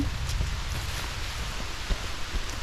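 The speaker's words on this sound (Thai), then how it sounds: "ฝนลง" Steady rain falling in a forest, a dense even hiss of drops on leaves and ground, close and continuous with a few louder patters, no voices.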